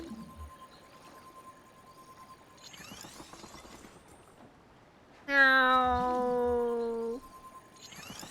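A cat in The Legend of Zelda: Breath of the Wild gives one loud, drawn-out meow about two seconds long, rising out of quiet game ambience with faint tones and soft background sounds.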